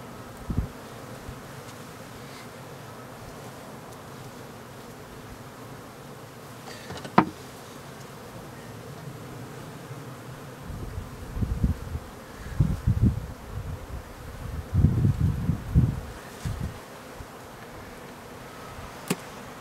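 Honeybees buzz steadily around an open hive during a colony inspection, a continuous close drone with louder low bursts near the end as bees pass near, plus a few handling knocks and no talk.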